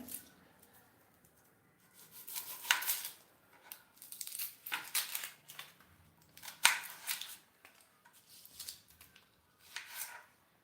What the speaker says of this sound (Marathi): कांदा चिरला तर आपण हा दुसरा कांदा चिरून घेऊया